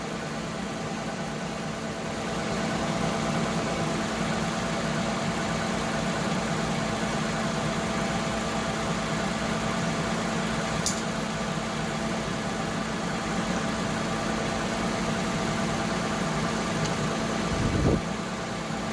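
A Lexus ES350 or Toyota Camry 3.5-litre V6 (2GR-FE) idles steadily and close by after an alternator replacement, a constant even hum with a single brief knock near the end.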